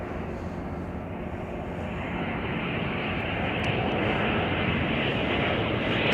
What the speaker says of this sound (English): the 757 just came in from FSO. It's a Boeing 757-300.